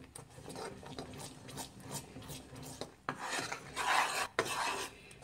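Kajjaya batter of flour being stirred and scraped in a pan over a medium flame, giving a steady rasping, scraping sound with repeated strokes that grow louder toward the end, close by with no talking.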